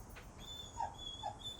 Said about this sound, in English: Now, Spart, that's my dog.